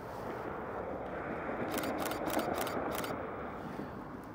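A DSLR camera fires a rapid continuous shutter burst of about five quick clicks in a row, faint over steady background hiss.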